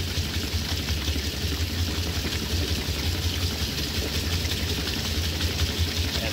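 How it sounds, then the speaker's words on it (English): 1960 Frigidaire Custom Imperial Multimatic washer pumping sudsy water out into a drum behind the machine, a steady low hum with a continuous watery rush throughout. "you can hear water being pumped out into the drum behind the machine"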